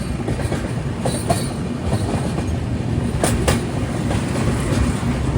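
Vivek Express train rolling across the long Farakka Barrage rail-cum-road bridge over the river, a steady loud rumble of wheels and carriages with a few clicking rail joints and brief squeals, continuous throughout.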